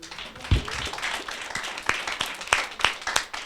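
A church congregation claps in praise during a French-language sermon, scattered uneven hand claps rising into brief louder bursts over a murmuring room, fairly close and moderately loud.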